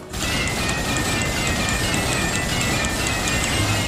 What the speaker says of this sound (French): Chaque balle fait une note différente.